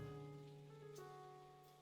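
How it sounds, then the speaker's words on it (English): Rain patters against a window in a video game, a soft, steady hiss with faint droplet ticks and no talk over it. "Same window, same rain."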